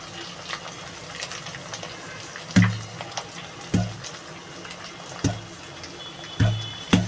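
Water gushing and splashing in a kitchen in a series of separate bursts over a low steady background, with no one speaking.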